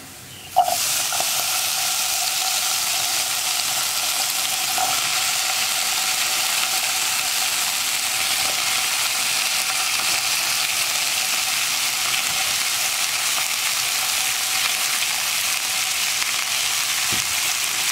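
Cut potatoes frying in a pan for a potato and brinjal mezhukkupuratti, a loud, steady, close sizzle that runs throughout, opening with a sharp hiss as they go in, with occasional faint scrapes of stirring.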